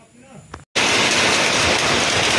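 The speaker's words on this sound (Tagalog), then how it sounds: "Grabe yung ulan o yung lakas." Heavy rain pours down on a farm during a downpour, a dense, loud, steady roar that cuts in abruptly after a brief quieter moment and continues unbroken.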